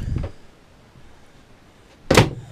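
A hanging locker door on a trawler motor yacht opens with a soft knock, then after a pause swings shut with a sharp wooden clack, close and alone in a quiet cabin.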